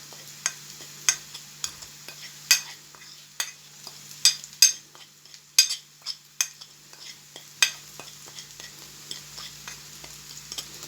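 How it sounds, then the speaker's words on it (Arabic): Spices being stirred into softening, frying onions in a pan, a spoon scraping and clinking against the metal in irregular sharp taps over a steady low sizzle, close by with no talk. "انا هجيب التوابل وهقلبها كلها على بعض."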